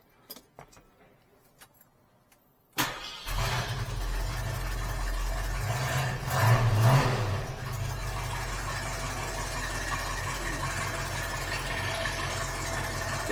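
1971 Ford Mustang Mach 1 with turbo mufflers starting up after a few quiet clicks, then idling loud and steady with a brief swell of revving midway.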